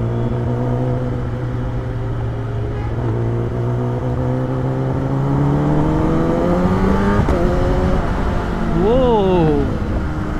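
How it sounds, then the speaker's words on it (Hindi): A BMW superbike revs its engine loudly nearby. A droning engine tone climbs in pitch with a sharp crackle near the end, and voices talk over it. "यार क्या बैकफायर मार रहा है BMW"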